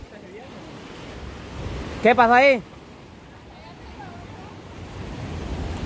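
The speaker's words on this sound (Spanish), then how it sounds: "Lo que pasa es que están unas grandes olas aquí" Big ocean waves crashing at El Tunco beach, a steady loud roar of surf with a brief voice calling out in Spanish over it.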